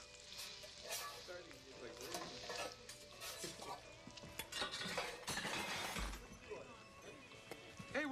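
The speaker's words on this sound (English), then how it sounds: "Where's my fries? They're frying." Steady sizzling of fries frying in a pan, with clinks of utensils and stirring, while people talk over it.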